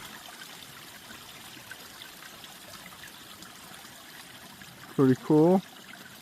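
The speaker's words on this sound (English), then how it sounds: "Got the little waterfalls there." Small waterfalls along a hiking trail give off a faint, steady trickle of running water. A voice speaks briefly near the end.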